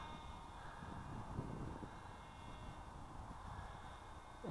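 SkyWalker RC model airplane carrying a payload, engine at full throttle. A steady, distant buzzing drone holds constant throughout, faint and alone under wind noise.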